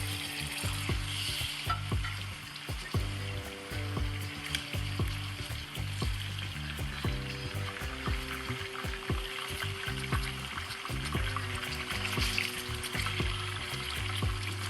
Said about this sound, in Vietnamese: Mình sẽ chiên trong 2 phút nhé.